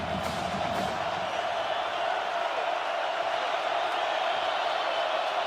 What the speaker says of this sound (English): Crowd fully engaged